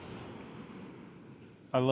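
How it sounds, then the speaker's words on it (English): Ocean waves wash onto a beach in a steady, soft rush of surf, and a voice cuts in loudly right at the end. "just sitting here and watching the waves"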